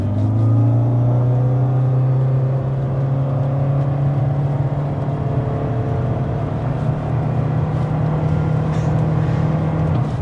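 A 2025 Toyota Camry SE hybrid accelerates to 60 mph, heard from inside the cabin as a loud, steady engine drone whose pitch climbs slowly beneath a rush of road and wind noise.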